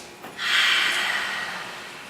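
A single deep inhalation drawn in through the nose during a guided stretching and posture exercise. It is a long, airy breath that rises quickly and then slowly fades, with no speech over it.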